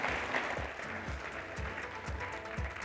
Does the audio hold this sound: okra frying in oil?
no